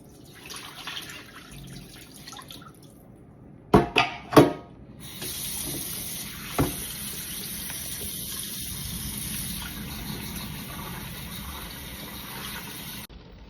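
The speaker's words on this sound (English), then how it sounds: "you're gonna rinse the pork again with tap water" Pork is rinsed under running tap water: a few splashes and knocks, then a steady gushing stream pours for several seconds, close and continuous.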